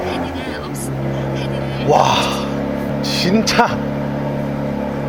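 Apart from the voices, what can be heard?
Porsche Cayenne Coupe engine cold start exhaust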